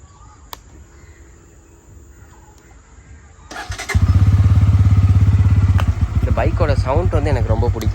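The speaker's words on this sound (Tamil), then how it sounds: "அடுத்ததாக பைக்கை ஸ்டார்ட் பண்ணி பார்ப்போம் எப்படி இருக்குன்னு சொல்லி." A brand-new Bajaj Pulsar N160 motorcycle sits quietly, then fires up after a few seconds into a loud, steady, throbbing idle close by. A voice speaks briefly over the engine near the end.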